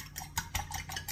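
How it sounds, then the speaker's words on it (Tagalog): Two eggs with paprika, salt, pepper and Himalayan salt are beaten in a bowl, a quick irregular clinking of utensil against dish, fairly close and with no talk. "binati-bati ko lang yun ng ganito lang"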